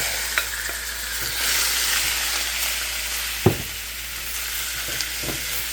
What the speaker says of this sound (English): So first I'm going to start by cooking off the meat there.